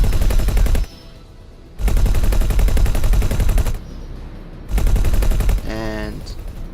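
In the space video game X4: Foundations, ship guns fire in three loud sustained bursts of rapid, machine-gun-like shots, with short quieter gaps between them and a falling electronic tone near the end.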